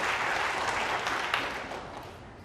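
A snooker crowd applauds in the arena, a dense, even ripple of clapping that fades gradually over a couple of seconds.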